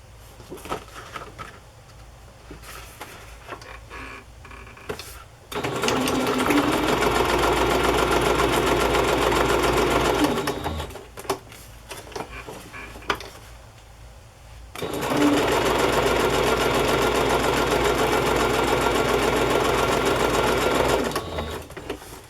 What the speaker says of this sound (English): So I am going to sew these on. Just using a straight stitch.